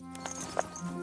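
A horse arriving in Kingdom Come Deliverance 2, a brief few clip-clop hoofbeats at moderate distance, fairly soft, with faint background sound.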